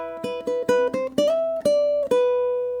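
Ukulele fingerpicked melody variation from an eerie Halloween-style etude, a handful of plucked notes stepping up then settling into a ringing sustained note, close and clear with no voices.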